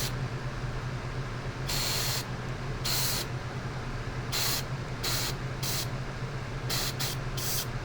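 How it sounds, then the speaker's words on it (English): Short bursts of aerosol primer spray hit a 1/144 Gundam LEO plastic model kit, about nine separate hissing puffs of varying length over a steady low hum, close and fairly quiet. "Spray the inside, cover that little ledge there on the top."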